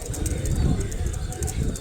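Pigeons of the Malbai and Andra breeds coo in a low, repeated murmur in a loft near Canning station, with a bright chirp or two above and some background voice mixed in.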